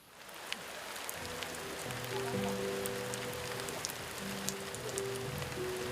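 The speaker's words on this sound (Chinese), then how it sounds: "下雨了" Steady rain falls outdoors, a dense even hiss of drops on surfaces with occasional sharper drips, with a faint low tonal hum running underneath.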